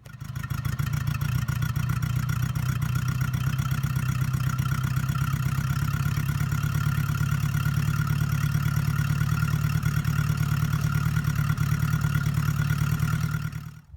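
A Honda GL1000 motorcycle engine idles steadily after a Seafoam treatment, with a loud, even low rumble and faint clatter that holds unbroken for the whole stretch before cutting off.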